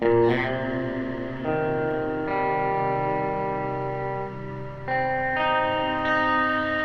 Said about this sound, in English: it has kind of a hiss to it, which becomes more obvious when you turn up the texture